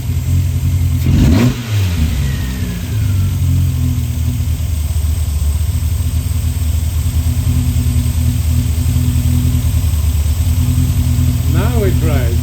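Car engine running steadily at a constant drone after being tuned and getting under way, with a brief louder rev early on and voices over it.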